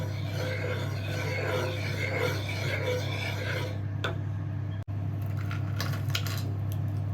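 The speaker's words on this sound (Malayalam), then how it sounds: "ഇപ്പം ഞാൻ ഇതിലേക്ക് ശർക്കര പാനി ആഡ് ചെയ്തിട്ട് നന്നായിട്ടൊന്ന് ഇളക്കി യോജിപ്പിച്ചു." Oats payasam being stirred in a pot after jaggery syrup is added, giving a steady scraping and rubbing of a spoon against the pan over a constant low burner hum, with a brief pause near the end.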